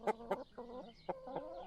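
Chickens in a henhouse give a few sharp, close clucks in quick bursts, loud and alone with brief pauses between calls.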